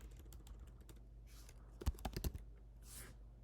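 Typing on a computer keyboard while naming a network switch during a VergeIO cluster install, with quiet scattered key taps and a short, denser burst of clicks near the middle.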